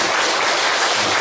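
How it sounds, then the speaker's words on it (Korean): A church congregation applauds the choir after a hymn at a Sunday service, a brief burst of dense, loud, continuous clapping filling the room. "은혜로운 찬양으로 은혜를 끼쳐준 우리 호사나 찬양대에게 우리 감사의 박수 한번,"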